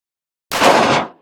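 A single sharp, loud pistol gunshot rings out at a 300 meter outdoor shooting range, its blast decaying over about half a second, with the onset of another report at the very end.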